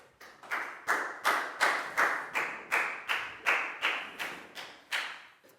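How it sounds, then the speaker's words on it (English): A classroom of Year 4 pupils claps in unison during a maths lesson, about a dozen sharp, evenly spaced group claps in a steady rhythm, close and clear with no talking over it. "Big round of applause for Net"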